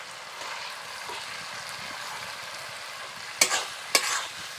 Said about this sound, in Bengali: এখন এর মধ্যে কুচুনো চিকেনটাকে দিয়ে দেবো